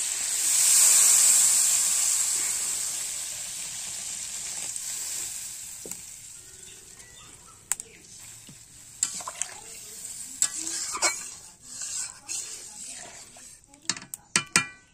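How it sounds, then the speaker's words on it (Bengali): Water goes into a pan of frying potato and pointed gourd curry, setting off a loud burst of sizzling and steam hiss that fades into softer bubbling, broken by sharp clinks of a spoon stirring. "এবার আমি দিয়ে দেব পরিমাণ মতো জল।"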